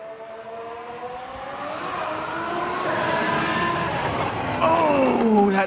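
A Cadillac Formula 1 car with a Ferrari engine flies by on a wet track, its high-pitched engine note rising and sweeping as it passes, growing louder before a sharp pitch drop near the end.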